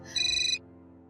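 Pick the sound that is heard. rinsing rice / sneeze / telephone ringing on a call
telephone ringing on a call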